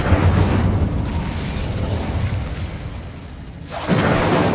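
Bombarda blasting spell in the wizarding game Hogwarts Legacy: a loud, close, roaring explosion that holds a dense rumble for several seconds, fades briefly, then erupts again near the end.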